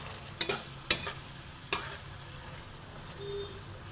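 Ground spice paste of cinnamon and cloves being fried and stirred in a pan for Kashmiri dum aloo, with a few sharp scraping stirs of a spoon over a quiet, low background sizzle.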